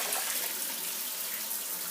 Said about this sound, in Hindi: पानी की आवाज वॉशरूम से,